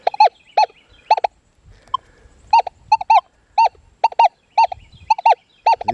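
Paired warbling target tones from a Manticore metal detector set to a nickel window, repeating in short bursts with brief gaps, loud and clear over a quiet background.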